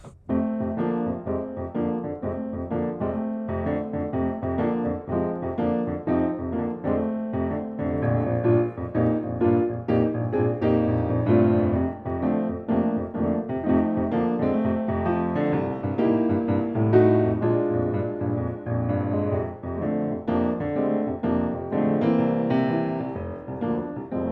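Solo piano plays a steady, simple blues progression with a repeating bass pattern and chords, moderately loud and clear.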